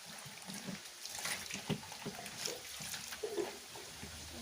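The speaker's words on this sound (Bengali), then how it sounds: "তো এখন মাছটাকে ভালো করে ধুয়ে নিচ্ছি।" Water splashes and trickles as chema fish are rinsed by hand, with close, uneven sloshing and dribbling in a quiet kitchen and no talking.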